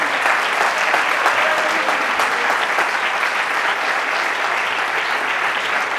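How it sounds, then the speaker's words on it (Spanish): Sustained audience applause at a conference on addiction prevention and recovery in Macael, dense steady clapping from a large crowd filling the room without pause. "Un aplauso muy fuerte para todos ellos"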